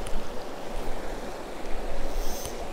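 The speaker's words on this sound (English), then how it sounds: "it's like a little slower-ish moving water right here" Slow-moving river water at a paid fishing spot: a steady, close broadband rush with gentle surges, and no voices.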